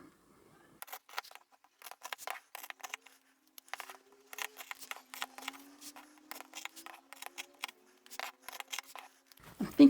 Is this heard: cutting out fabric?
yes